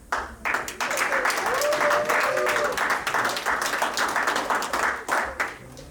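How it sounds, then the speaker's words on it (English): An audience at a comedy show claps and applauds for several seconds, a dense, steady crackle of hand claps with a faint voice underneath that tapers off at the end. "Thank y'all to the ones who clapped"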